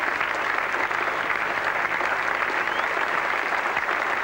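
Cricket crowd at Edgbaston applauding a batsman's century in the 1985 England v Australia Test, a dense, sustained roar of clapping from a large stand, steady and loud throughout.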